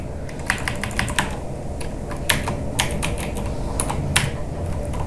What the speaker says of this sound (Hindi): मैं दोबारा टाइप कर देता हूँ